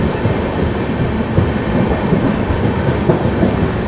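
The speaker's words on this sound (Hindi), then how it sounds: "तो बस ट्रेन एक लूप बनाएगी और बड़ी तेज़ रफ्तार बढ़ाते हुए निकल जाएगी।" The AP Express passenger train between Delhi and Nagpur runs fast on the rails, a loud, steady, dense rumble with continuous clickety-clack wheel noise and no talking.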